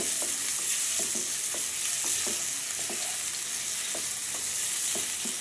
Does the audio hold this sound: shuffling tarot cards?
no